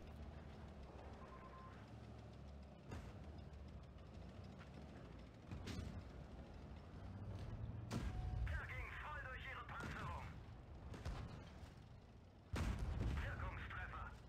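Tank cannon shots in the World of Tanks Blitz battle game, several loud booming blasts at irregular intervals over rumbling engine and battle noise, with someone talking over it.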